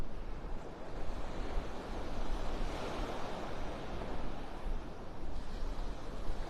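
Ocean surf washing steadily onto a beach in North Naples, Florida, a continuous broad roar of breaking waves with some wind, fairly loud and unbroken throughout, no voices.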